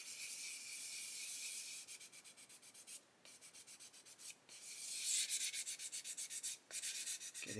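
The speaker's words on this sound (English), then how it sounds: "And then just keep sanding on here." Steady back-and-forth sanding strokes on a small 1/12 scale plastic model car body, quick rhythmic rasps with brief pauses, close and fairly quiet.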